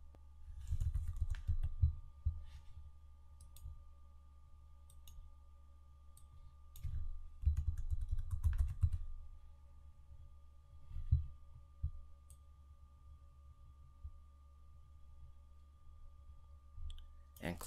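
Settings typed on a computer keyboard: quiet clusters of soft, rapid keystrokes arriving in short bursts with pauses between, over a faint steady hum.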